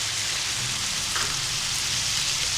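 Onion and green chili paste with garlic-ginger powder fries in a pan for white karahi, giving an even, dense, rain-like hiss that holds steady and close with no talk.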